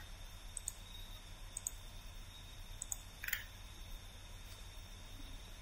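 Faint, crisp mouse clicks repeat at uneven intervals about a second apart over a low background hiss, close to the microphone.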